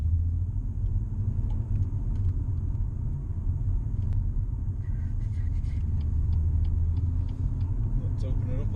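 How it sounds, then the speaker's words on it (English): A car in sport mode, windows slightly open, makes a steady low engine and exhaust rumble while driving, with road noise and a few faint knocks inside the cabin. "Gonna put the car into sport mode now, which makes the throttle a bit faster and the exhaust a little bit louder."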